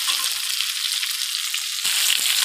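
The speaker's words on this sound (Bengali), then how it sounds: "আলুটাও ভাজা হয়ে গেছে, একটু নুন হলুদ দিয়ে ভেজে নিয়েছি" Potatoes fried with salt and turmeric sizzle steadily in hot oil, a loud, continuous crackling hiss with a brief dip and stir partway through.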